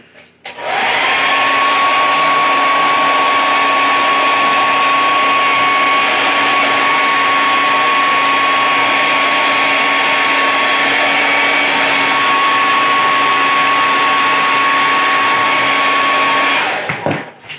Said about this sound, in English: I'm gonna hit this with a hair dryer real quick